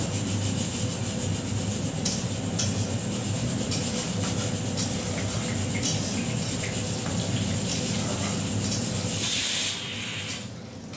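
Panch phoron spices sizzling in hot oil for a chutney, a loud, continuous hiss and crackle close by that carries on without a break.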